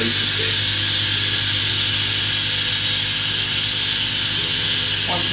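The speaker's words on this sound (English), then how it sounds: "I can just turn the dial and release the steam" A loud, continuous hiss of steam rushing from a pressure cooker valve, steady and unbroken with a low mechanical hum beneath.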